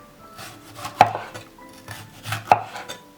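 A knife chops food into strips on a board in a few sharp strikes, with two louder thuds spaced apart and quieter cuts and kitchen clatter between them.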